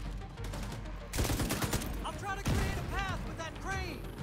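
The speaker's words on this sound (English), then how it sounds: "I think I'd be able to get another grenade in there." Grenade blasts and gunfire in Tom Clancy's The Division 2 video game: sharp loud bursts and heavy booms break in twice over a rattling firefight, with radio-style chatter woven through.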